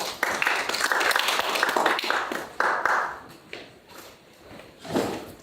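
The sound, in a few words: audience applause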